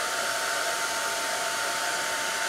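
A heat gun or torch warms the lip of a small metal casting, giving a steady, even blowing roar that holds unchanged from start to finish, close and fairly loud, with no talk.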